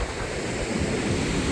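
Floodwater rushes out of a normally trickling outflow in Gananoque after heavy rainfall, making a loud, continuous roar close to the microphone.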